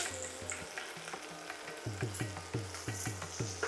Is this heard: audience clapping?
no